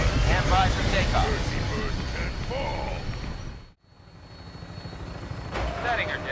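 Aircraft engine drone as a vertibird takes off in the Fallout 4 video game, a steady rumbling whine that cuts out briefly and returns, with radio-style voices talking over it.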